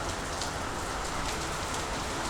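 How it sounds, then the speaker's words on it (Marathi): Heavy pre-monsoon rain pours down in Konkan, a dense, even, loud hiss of drops striking surfaces with no pauses or voices. "इकडे सुद्धा जोरदार पाऊस चालू आहे"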